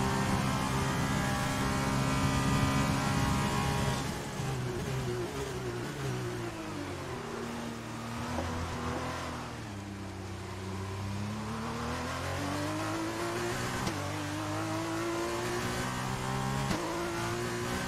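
Formula 1 car engine in F1 2020 at Monza, a loud high-revving whine that swoops down under braking and climbs again through gear changes, continuous and close with no voices.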